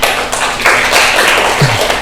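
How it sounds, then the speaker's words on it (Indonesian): A classroom audience claps for a classmate after her religious-studies group presentation, a loud, steady patter of many hands filling the moment, with a brief voice near the end. "Oke, tepuk tangan buat Mbak Ova."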